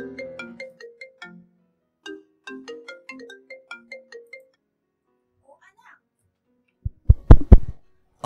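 A mobile phone ringtone plays a melodic sequence of bright, clean electronic tones in repeated phrases, fairly loud and close, then stops, followed by a short burst of nearby handling noise.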